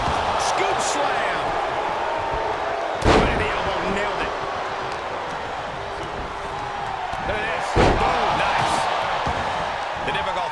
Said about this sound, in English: Boom, what impact! Scoop slam!